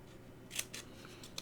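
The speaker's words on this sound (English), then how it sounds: "let's just cut out one of these German crosses and see if it'll even release from the paper or not" Scissors snip a paper-backed German cross decal in a few quick, crisp cuts, close and fairly quiet, with no speech.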